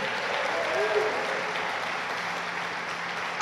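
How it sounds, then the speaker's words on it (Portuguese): A church congregation claps during a Portuguese-language worship service, a dense, even wall of applause that holds steady for over three seconds. "aplauda Jesus e dá mais um glória a Deus aí"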